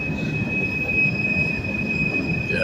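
A train crossing a railway bridge, with steady loud wheel squeal holding high sustained tones over a rumbling roll of cars, continuous and close throughout.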